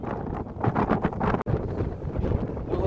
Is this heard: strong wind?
yes